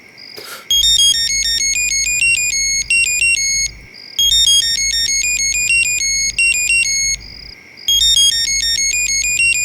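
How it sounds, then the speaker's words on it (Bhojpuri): An electronic phone ringtone plays a looping high beeping melody three times with short gaps, loud and close, with no talk over it. "बबिया के फोन।"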